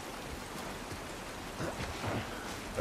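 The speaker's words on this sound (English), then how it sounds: "This rain ain't gonna do us any good." Steady rain pours down in The Last of Us, a broadband wash of drops hitting the ground outdoors, fairly loud and continuous throughout with no voices over it.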